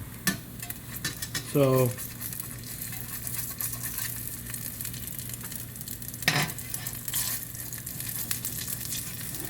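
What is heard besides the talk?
salmon patties frying in a pan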